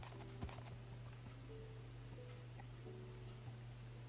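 Soft, sparse clip-clop of horse hooves in a video game over a steady low hum, faint and a little uneven, with no voices.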